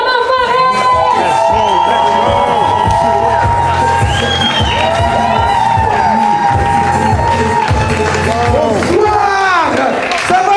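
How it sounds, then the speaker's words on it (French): An audience at a comedy show breaks into loud cheering and applause, a dense, continuous roar of clapping, whoops and shouting voices filling the room throughout. "S'il vous plaît, un grand applaudissement pour Oussama Fares!"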